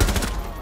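Rapid burst of automatic gunfire in Rainbow Six Siege, close and loud with dense repeating shots through the opening half, then trailing off into ringing game ambience.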